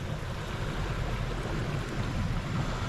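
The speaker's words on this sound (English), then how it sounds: "there's water draining out now" Water drains from a hanging Millbank filter bag, a steady trickling and splashing that runs on without a break, close by and fairly quiet.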